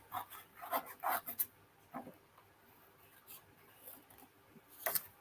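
Paper is cut for a handmade Stampin' Up card, giving faint, quick snips and rustles in a loose cluster, a quiet pause, then a final pair of soft cuts.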